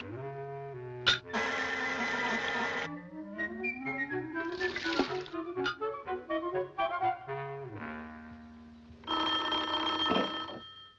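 A telephone rings in bursts of shrill bell tone, two long rings separated by a stretch of varied tonal chimes and whistle-like notes, clear and fairly close with no talking.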